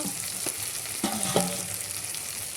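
Ginger paste sizzling with softened tomato and garlic in a pan for a chicken curry, a constant close frying hiss with a few scraping stirs of a spoon, no voices.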